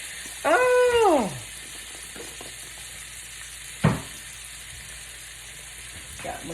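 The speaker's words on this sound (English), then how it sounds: "Got my garlic and onions in there. Let that cook for a few minutes." Garlic and onions frying in a pan give a faint, steady sizzle, joined near the start by a dog's brief high whine and later by a single sharp clack.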